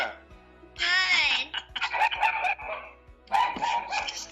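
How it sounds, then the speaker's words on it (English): Dogs bark and yip in several sharp, excited bursts close by, with whining tones between barks. "You hear our dogs?"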